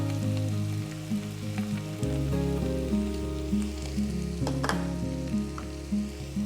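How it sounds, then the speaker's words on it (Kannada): Green chillies, coriander leaves and mint frying in oil with onions for a Kollegal-style mutton pulao, a steady close sizzle with occasional stirring scrapes, under a continuous low hum. "ಈಗ ಮತ್ತೆ ಇದನ್ನು ಫ್ರೈ ಮಾಡ್ತಾ ಬರಬೇಕು."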